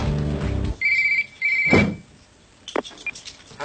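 A telephone ringing tone on an outgoing call sounds in two distinct, fairly loud bursts, each a steady electronic trill, with a couple of clicks and knocks around them and no one speaking.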